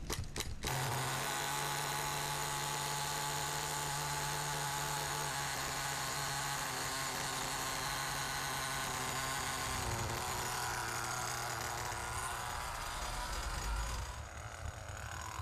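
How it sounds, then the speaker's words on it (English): An HPI Small Block nitro engine in an RC car runs steadily at a high, buzzing pitch, loud and close, holding a constant drone with slight wavering throughout. "Now start the engine again."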